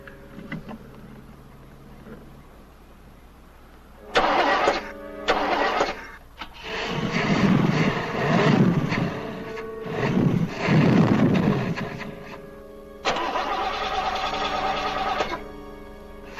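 A car engine cranks and turns over in bursts, then catches and runs with a rough, rising roar that swells and fades before settling into a steady idle, close and loud with no voices.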